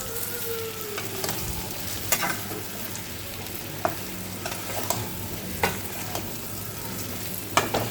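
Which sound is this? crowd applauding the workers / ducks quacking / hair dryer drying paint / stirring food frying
stirring food frying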